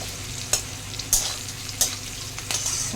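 A ginger, garlic and green chili spice paste, blended with tomato, capsicum and coriander, fries in a pan for a quick fish curry. It gives a constant sizzle broken by four sharp spatula scrapes at roughly even intervals, and nobody speaks.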